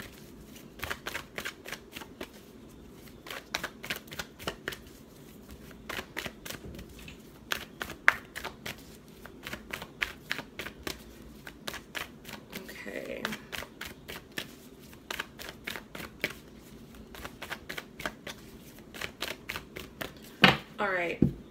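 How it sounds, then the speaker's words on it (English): Tarot cards being shuffled in quick riffling bursts, repeated steadily with brief pauses, close by, with soft background noise throughout. "I'm just gonna shuffle for a little bit."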